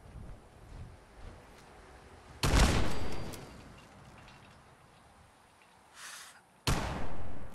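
Gunfire in Fallout 4 cracks out in two loud, sharp bursts separated by quieter stretches of faint shots and background rustle, fairly close and without talk.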